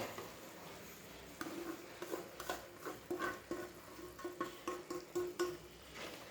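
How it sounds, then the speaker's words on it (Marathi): Semolina is stirred into dissolved sugar syrup in a pan over a low flame, giving soft, irregular scraping and patter strokes that grow busier and more rhythmic as the mixing goes on, with no talk. "आणि व्यवस्थित असं हे मिक्स करायचं आहे, हलवत राहायचं आहे."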